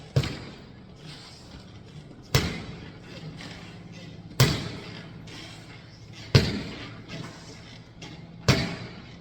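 A flexible weapon strikes an object in sharp, regular impacts about every two seconds, five loud thuds each trailing off, close by with a quiet background.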